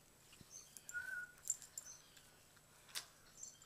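A pet Meyer's parrot gives a few faint, scattered chirps and a short whistled call, quiet and intermittent against a still room.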